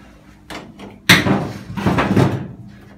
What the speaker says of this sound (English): Move the door. Open the door.